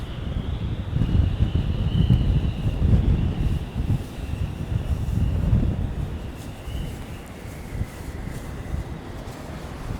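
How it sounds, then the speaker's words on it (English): Strong gusting wind roars across the microphone at Hudson Yards in Midtown Manhattan at night, a loud, continuous rumbling buffet that swells and eases without letup. "It's kind of like hurricane force winds."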